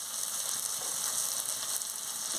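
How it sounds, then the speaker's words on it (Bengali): A turmeric and chili powder masala sautés in a pan for a prawn and pointed gourd curry, giving a steady, fairly faint sizzling hiss without pauses or voices. "হলুদের গুঁড়ো আর লঙ্কার গুঁড়োটা দিয়ে দিচ্ছি, মশলাটাকে কষিয়ে নিচ্ছি।"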